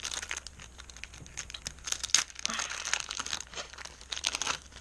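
A Match Attax football card packet is torn and crinkled open up close, with continuous crackling foil rustles and sharp tearing bursts throughout.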